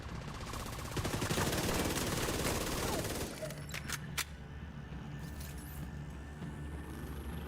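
An automated turret in The Division 2 firing a sustained rapid burst of gunfire for about three seconds, followed by scattered single shots and a duller background rumble.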